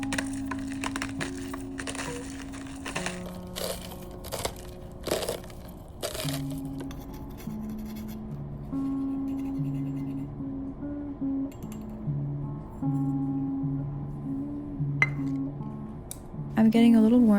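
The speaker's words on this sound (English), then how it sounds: "Now it's time to grind and measure some salt." Salt is ground for a late-night cookie bake, with a run of crunchy, crackling grinds and small clinks near the start over soft background music, then a brief clatter at the end.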